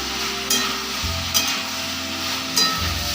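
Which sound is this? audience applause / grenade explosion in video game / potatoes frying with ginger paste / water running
potatoes frying with ginger paste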